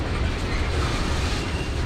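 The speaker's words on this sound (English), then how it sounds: "This train is being stopped by locomotive power only." Brief, steady low rumble of an Amtrak train in Galesburg, Illinois, slowing on locomotive brakes alone, a dense, even roar with no voices.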